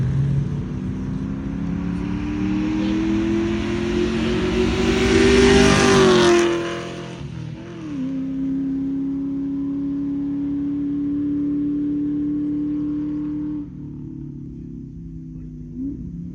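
A New Edge Ford Mustang engine on a race track revs and drones at high speed, rising in pitch then shifting gears, sustained and fairly close, with no talking.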